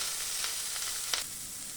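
Small chopped ingredients for a sago roll fry in a pan, giving a soft steady sizzle with a few faint scraping stirs, fairly quiet and with no voices.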